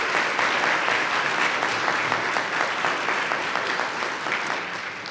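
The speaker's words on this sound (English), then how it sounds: "perhaps we could clap one more time for all the people that work so hard to make this happen" Sustained, dense audience applause at a diversity forum keynote, a broad crowd clapping steadily and loudly for about five seconds before easing slightly.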